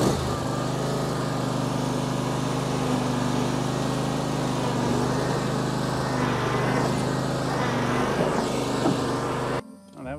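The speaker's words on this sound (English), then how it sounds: "It says just lining up your tires and drive on up." A Husqvarna TS242XD lawn tractor runs with a steady, loud engine drone as it drives up onto Rhino ramps, the note wavering slightly near the end before a brief drop.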